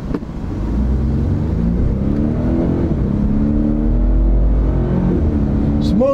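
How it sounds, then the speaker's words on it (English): A Toyota truck with a twin-turbo hybrid powertrain pulls hard in a drag race, its engine droning steadily and rising in pitch through smooth gear changes, loud and close throughout. "We'll see how these twin turbos with little electric motor boosts do."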